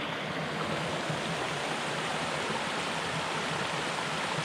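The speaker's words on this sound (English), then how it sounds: "it sounds like there's a little waterfall down there" Steady rushing of water from a small waterfall and flowing creek in a forest, continuous and even throughout, with no voices.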